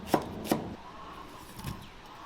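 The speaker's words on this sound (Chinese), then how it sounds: "我又要剁肉" Three sharp, close cleaver chops on fatty-lean pork shoulder against a board, two in quick succession and a softer one after a pause.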